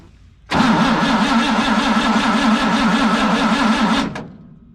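A CMP engine with the ignition off cranks over on its starter for a compression test, a loud close rhythmic whirring churn lasting about three and a half seconds before stopping abruptly.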